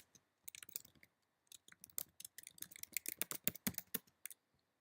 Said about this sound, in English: you would go ahead and type a message